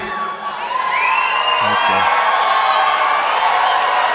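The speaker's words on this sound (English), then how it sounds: "to have this crowd packed, oh, this is beautiful" A packed crowd at a 2016 Donald Trump campaign rally in Council Bluffs, Iowa, cheers and whoops loudly and steadily, with a dense wall of shouting voices and no single speaker standing out.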